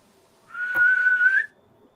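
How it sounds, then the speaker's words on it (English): A single clear whistle, held steady for about a second with a slight rise at the end, close and loud against a quiet background. "I heard like a whistle."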